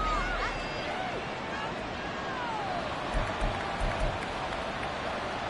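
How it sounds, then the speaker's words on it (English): A stadium crowd in a Madden football video game roars in a broad, continuous wash of cheering and shouting, with a few louder swells toward the end and no clear speech. "Plenty of shouts from this crowd as they watch the replay."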